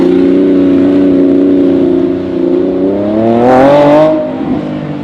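A white Lamborghini Revuelto supercar's engine hums at a steady pitch on a city street, then rises in a loud rev before easing off, with no talk over it.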